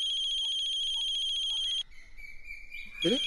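A telephone rings with a steady electronic ringtone, loud and close, for about two seconds, then stops. A brief quieter tone and a short rising sound follow.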